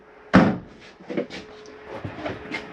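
A cabinet-style access panel door on a 2016 Forest River Tracer 2850RED travel trailer opens or closes with one sharp knock near the start, followed by a few softer rattles and clicks.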